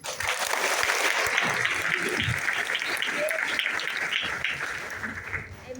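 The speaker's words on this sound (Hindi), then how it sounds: "इस शानदार लोगों की जोरदार तालियों के लिए शैलेश सिंह का धन्यवाद।" Loud audience applause fills a morning stage event in Thane, steady dense clapping from a large crowd sustained throughout without pause, with faint voices mixed underneath.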